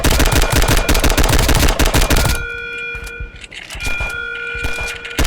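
Rapid automatic gunfire in Roblox rattles loud and dense for a couple of seconds, then gives way to scattered single shots over sustained electronic game tones.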